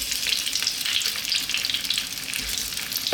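Cumin seeds and potato pieces frying in sunflower oil for a potato mushroom curry, a dense continuous hiss and crackle of hot oil, close and fairly loud, steady throughout with no voices.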